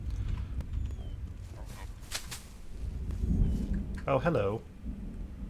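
Rumbling thunder and steady downpour rain fill a Wild West video game scene, with hoof clip-clops and someone speaking briefly over the storm.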